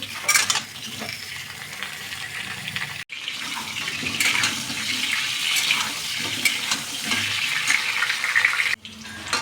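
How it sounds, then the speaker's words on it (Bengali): Potatoes fry in hot oil with a continuous bright sizzle, briefly interrupted by stirring and clatter, crackling loudly and close. "আলুটা আগে ভেজে নেব।"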